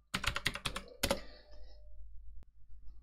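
Rapid clatter of computer keyboard keys typing a short command, a quick burst of close, crisp keystrokes followed by a final tap, in a quiet room.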